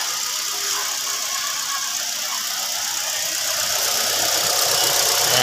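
A Ford Escape engine runs steadily right after a surplus throttle body assembly is fitted, giving a close, even idle with a faint rattle and no talk over it.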